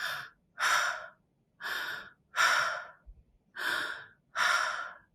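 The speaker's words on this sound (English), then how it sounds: "The one I'd recommend the most is open mouth breathing" Deep open-mouth breathing exercise: six long, loud breaths in a slow, steady rhythm, each a separate rushing burst with short pauses between, close and alone.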